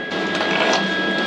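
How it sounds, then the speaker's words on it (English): Ratchet and socket loosening bolts on a snowplow cutting edge, a short, loud, steady burst of rapid clicking. "I'm going to get my ratchet and socket, and we're going to see how hard those bolts are to come out"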